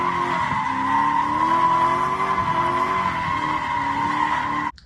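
An LS-swapped GT86 skids around a skid pad, giving a loud sustained tire squeal over a steady engine drone that continues for several seconds and then cuts off abruptly.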